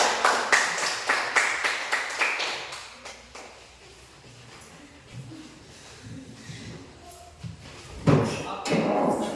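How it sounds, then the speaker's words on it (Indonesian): A classroom audience claps after a poetry reading in a quick, uneven burst of hand claps that fades into murmuring and shuffling, with a brief voice and a louder flurry near the end. "kasih tepuk tangan dulu"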